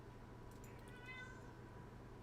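A house cat meows several times indoors, faint and brief, over a steady low background hum.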